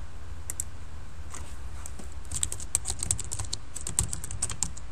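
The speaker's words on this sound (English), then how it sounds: "Type the text on there." Rapid typing on a computer keyboard while entering text into an Excel 2010 shape, a close run of crisp, irregular key clicks in bursts, no voices.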